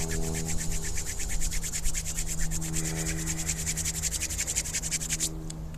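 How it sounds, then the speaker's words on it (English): Hands rubbed briskly together to warm them, a close, steady run of rhythmic dry swishing strokes lasting several seconds, with no talking. "let's just finish up by rubbing our hands together,"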